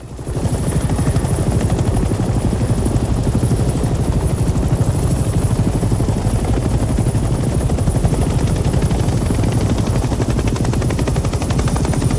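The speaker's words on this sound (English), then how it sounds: "Welcome to helicopter training." Loud, continuous rotor chop of a helicopter in the video game Hell Let Loose Vietnam, with rapid rhythmic thumping and a high steady whine, no talking.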